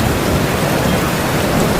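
Heavy rain pours steadily as a sound effect in an animated Hindi story, a loud, even hiss of falling water with no voices over it.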